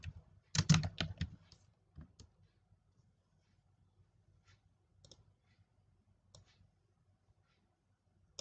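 Someone types an opening balance into an Excel sheet on a computer keyboard, starting with a quick cluster of key clicks and then sparse, isolated taps over a quiet background.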